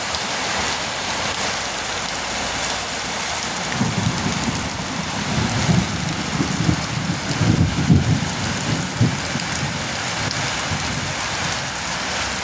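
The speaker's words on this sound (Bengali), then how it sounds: "প্রচণ্ড বৃষ্টি দিচ্ছে।" Heavy rain pours down at Jorabat in Guwahati during a traffic jam, a dense continuous hiss of rain on surfaces with low thunder rumbling through the middle stretch, loud and unbroken, no talking.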